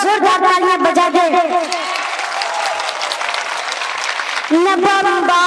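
A mushaira audience breaks into loud, sustained applause and cheering for a couple of seconds. A voice speaks just before and resumes just after.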